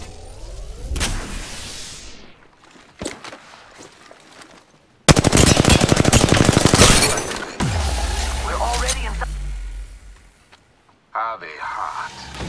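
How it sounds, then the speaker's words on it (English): Bursts of gunfire and impacts in a video game, with a short crack, a loud sustained automatic burst, then heavy low rumbling and further shots, interleaved with game voice callouts. "Getting shot at."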